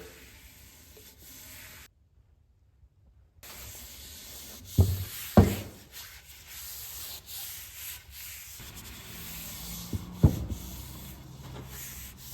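Bare hands rubbing a coat of oil into a wooden handle on a vintage double bit axe, soft repeated close rubbing strokes with a few louder knocks and a short silent gap, no talk.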